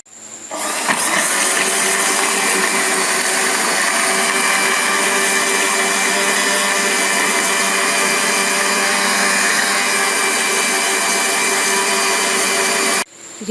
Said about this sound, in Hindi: इन सब अज़्ज़ा को हम अच्छे से ब्लेंड कर लेंगे